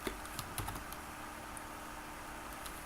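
Typing on a computer keyboard while coding JavaScript, quiet scattered clicks of keys in short irregular bursts at close range over a faint steady background hum.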